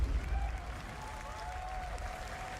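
Subdued crowd applause at a summer video game showcase, a steady, low wash of clapping with little energy that runs through the whole stretch and sits beneath a faint tonal sound.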